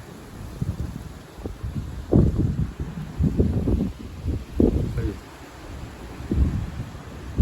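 Strong southwest wind gusts sweep through, rustling and lifting leaves in loud irregular bursts over a steady rushing background, with someone talking briefly in between.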